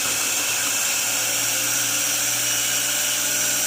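An electric mixer whirs steadily as it blends garlic and chili for a Vietnamese dipping sauce, a loud, continuous high-pitched buzzing motor drone with no pauses and no talking.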